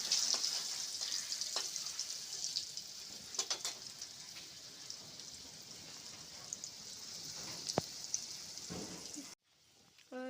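Oil crackles and sizzles in a pan while frying, a soft continuous spatter with scattered sharp pops, fairly faint and close, before a sudden cut to near quiet at the end.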